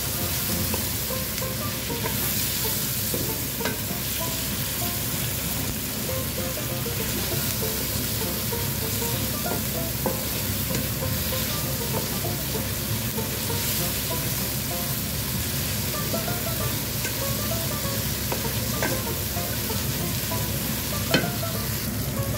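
A spoonful of garlic sizzles and fries in a pan while being stirred, a steady, continuous crackle with occasional light scraping taps, close and fairly loud.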